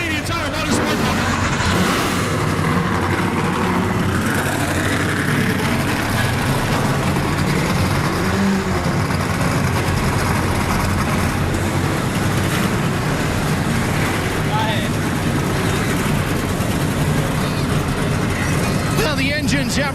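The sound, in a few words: NASCAR Chevrolet Silverado race truck engines starting and revving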